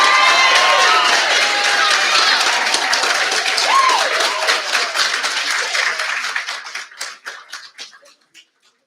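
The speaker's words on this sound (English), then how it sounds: "So can we give one more round of applause, please?" Sustained audience applause after a speech at a Pasifika Fusion 2024 event, loud and dense at first, then thinning into scattered individual claps as it fades out.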